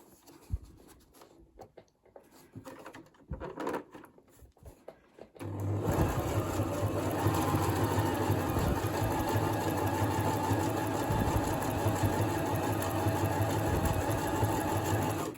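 Sewing machine running steadily as it center-stitches a 640 gsm fabric rag mask, starting after about five seconds of quiet handling noises and then holding a loud, continuous whirring drone to the end.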